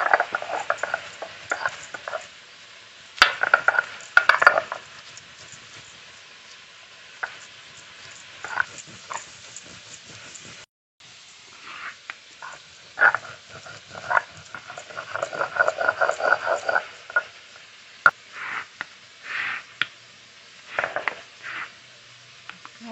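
Cumin, chilli and garlic cloves being ground on a grinding stone, a rough, scraping, rhythmic stone-on-stone rubbing with irregular strokes, close and moderately loud, going on at length with brief pauses.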